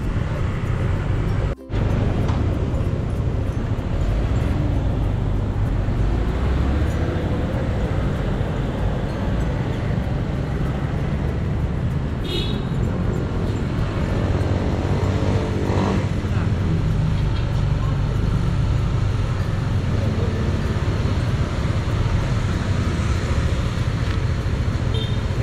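A motorcycle rides through road traffic, producing a steady, loud rumble of engine and wind with the broad wash of surrounding vehicles, continuous throughout with one brief knock near the start.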